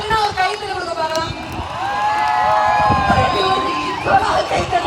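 Crowd cheering and chattering at a comedy star night event in Nagercoil, a steady wash of many voices with whistles and shouts, filling the clip at moderate loudness.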